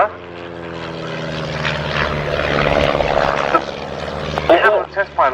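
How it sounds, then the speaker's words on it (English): A pair of de Havilland Chipmunk T.10 propeller aircraft cross over during an airshow display, their piston engines droning steadily and swelling as they pass, with a commentator talking over the sound. "The Chipmunk was always a super display aeroplane as they come in for a crossover"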